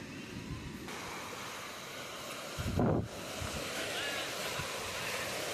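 River water rushing far below a hillside viewpoint in Valle Grande, San Rafael, Mendoza, a steady broad wash of flowing water blended with wind noise on the microphone, with a brief louder gust near the middle.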